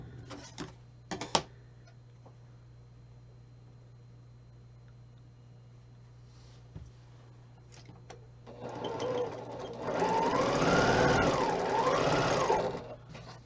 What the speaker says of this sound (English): So we're going to sew these 2 pieces together first